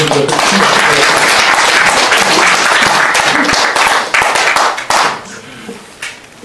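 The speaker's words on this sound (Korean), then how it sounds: "박수" A Korean press-freedom forum audience breaks into loud, close clapping with distinct individual hand claps, sustained for several seconds before thinning and dying out near the end.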